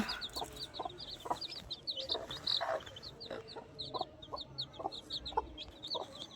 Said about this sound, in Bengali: ওখানে কত মুরগি বাচ্চা